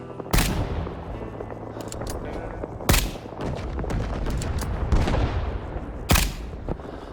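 A sniper rifle in Rising Storm 2 Vietnam fires three sharp, loud shots a few seconds apart, with quieter reloading clicks and distant battlefield rumble filling the gaps.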